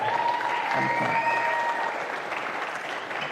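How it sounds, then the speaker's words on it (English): Spectators at a squash Eredivisie match at the Frans Otten Stadion give a player a round of applause, a brief steady patter of clapping with a voice over it. "Round of applause to Stan now!"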